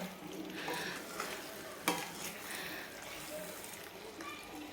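Paneer tikka masala mixed gently in a pan, soft scraping strokes over a faint sizzle with one sharper knock midway, close but quiet.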